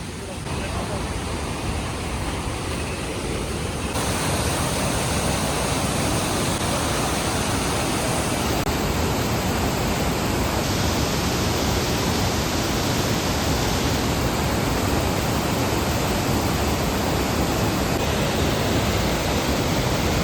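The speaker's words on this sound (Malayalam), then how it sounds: "ഈ ഡാം തുറന്നു വിട്ടപ്പോൾ വെള്ളം പോകുന്നത്" Steady, powerful rushing of water roaring without pause, a broad dense torrent close by, floodwater surging through three opened dam shutters.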